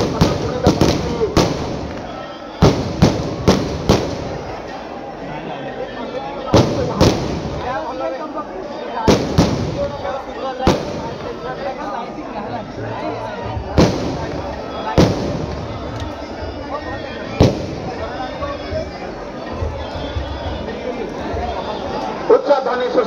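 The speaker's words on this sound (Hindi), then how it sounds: "उच्च ध्वनि सृष्टि करी बाण" Festival fireworks, including wheel-spinning rockets and tree-shaped fountains, set off at Belaguntha: sharp firecracker bangs and booming bursts go off irregularly, some close and loud, over steady crowd chatter and talking voices.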